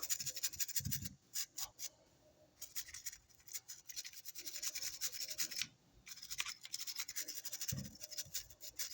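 A brush scrubs epoxy out of a spray gun head in repeated rough, rasping strokes, close and fairly quiet, with two brief pauses between bursts of scrubbing.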